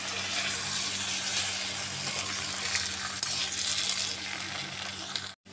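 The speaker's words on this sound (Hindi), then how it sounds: "अब इनको हम मिक्स कर लेंगे अच्छी तरह से।" Chana chilli being stirred in a hot pan with vinegar and tomato sauce, a steady close sizzle with scraping of a spoon against the pan, continuous and fairly loud, then cutting off abruptly at the end.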